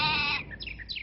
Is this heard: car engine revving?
no